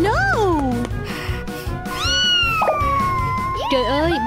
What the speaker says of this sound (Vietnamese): Mèo con ơi, đứng lại đi.